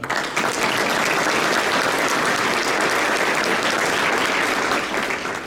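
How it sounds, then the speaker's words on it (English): Loud, dense applause fills an awards luncheon room, steady from start to finish with no pauses and no voices on top. "So round of applause."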